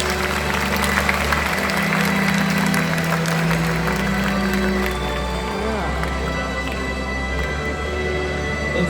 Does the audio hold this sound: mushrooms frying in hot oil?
no